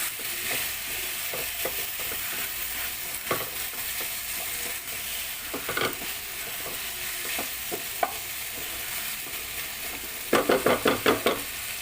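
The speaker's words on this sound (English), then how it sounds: "on this stage, we can put back our beef and give a good mix" Beef and broccoli stir-frying together in a pan, a continuous sizzle broken by intermittent utensil scrapes, then a quick burst of rhythmic clanks as the mix is tossed near the end.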